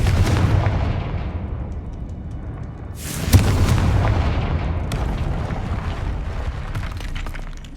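A Confringo fire spell from the video game Hogwarts Legacy explodes with a sharp burst near the three-second mark, over a continuous loud, rumbling blast of fire and game ambience.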